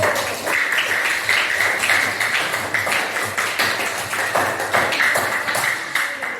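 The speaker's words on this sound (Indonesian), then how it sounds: "Tepuk dulu" A class of pupils claps together after their presentations, a dense, steady patter of many small hands filling the room at close range, with a few brighter slaps and light scattered noise throughout.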